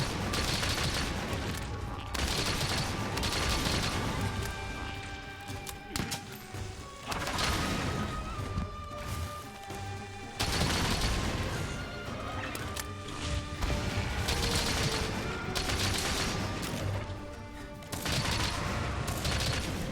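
Bowgun fire in Monster Hunter Rise: a dense run of loud, sharp shot bursts and impact crashes repeating every second or two over busy combat effects and music, with almost no talk.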